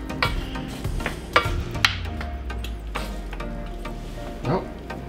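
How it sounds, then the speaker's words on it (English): Bacon and onion fry in a pan with a low, steady sizzle, broken by sharp scraping and clacking as they are stirred, close by. "We just turned on the bacon and the onion."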